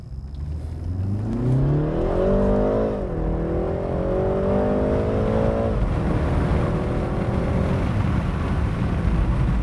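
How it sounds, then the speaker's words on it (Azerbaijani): Inside the cabin of a BMW 330i G20, the turbocharged engine drones and rises in pitch as it accelerates, settles briefly, then climbs again, steady and fairly loud over road rumble. "Motorun səsi gəlir salona,"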